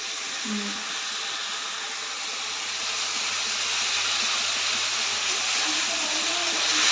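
A kitchen chimney exhaust hood runs over paneer being cooked, making a steady, broad whooshing roar that swells slightly toward the end, with a faint voice in the background.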